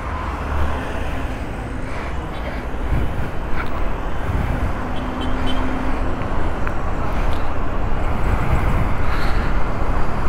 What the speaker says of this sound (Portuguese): Primeira experiência com uma moto elétrica.